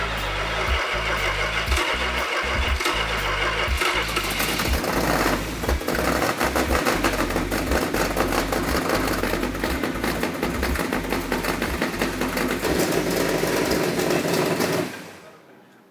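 A car engine with the choke set slightly rich cranks with a rapid, pulsing stutter, catches, and then runs at a loud, rough, steady idle close by until it quickly cuts off near the end.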